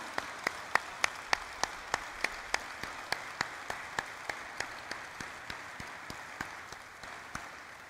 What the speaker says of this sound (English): let's begin this listing ceremony with a thunderous round of applause